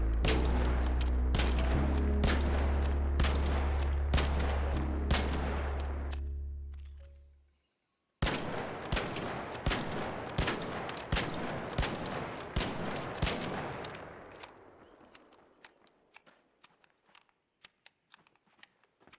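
Bursts of rapid gunfire come from a weapon fitted with a padded stock in the Arc Raiders video game. Loud, sharp repeated shots run in two volleys separated by a brief silence, and the second volley tapers off into fainter scattered shots.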